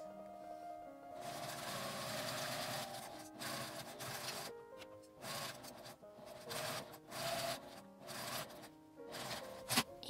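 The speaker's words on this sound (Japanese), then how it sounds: "中表に合わせて1センチの縫い代で端まで縫います。" A sewing machine stitches two pieces of fabric scrap placed right sides together along a 1 cm seam allowance, making a glasses pouch. Bursts of steady mechanical whirring stop and start repeatedly, close and moderately loud, with no talk.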